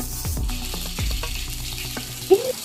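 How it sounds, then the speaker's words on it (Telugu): Onion paste frying in hot oil in a kadai with cloves, cardamom and bay leaves, a steady soft sizzle with occasional stirring scrapes and a brief clink near the end. "ఆనియన్ పేస్ట్ 2 నిమిషాలు కలుపుకుంటూ ఫ్రై చేసుకోవాలి"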